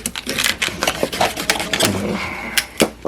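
A knife trims asparagus stalks on a cutting board in a quick series of sharp, close taps and chops, irregular in rhythm and fairly loud, with no speech.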